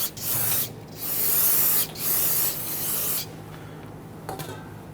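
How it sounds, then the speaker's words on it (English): Several bursts of aerosol solvent spray hissing from a can during a rear brake hose replacement on a Kia Sorento, a few long sprays separated by short pauses, close and loud, with a faint background hum. "I'm going to use some spray solvent."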